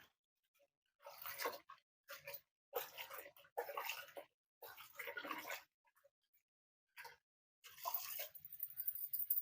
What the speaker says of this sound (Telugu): మరిన్ని నీళ్లు తీసుకొని ఒక గిన్నెలో గోంగూర అంతా 2 సార్లుగా శుభ్రంగా కడిగేసేయాలి.